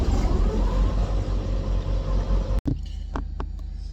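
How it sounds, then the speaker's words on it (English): A semi truck's refrigerated trailer unit runs with a loud, steady low rumble close by, then cuts abruptly to a quieter hum with a few faint knocks. "my reefer trailer turns on right when I'm talking"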